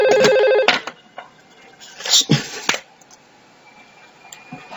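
A simulated VoIP telephone in network software rings in a short electronic burst near the start, followed by scattered clicks and light handling noises.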